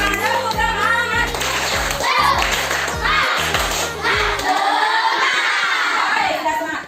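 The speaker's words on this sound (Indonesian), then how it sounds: "Tepuk tangan untuk Bapak B." Classroom participants clapping hands in a group applause during a school lesson, children's voices shouting and chattering over the claps, with a loud rhythmic chant-like passage at the start before the noise thins out.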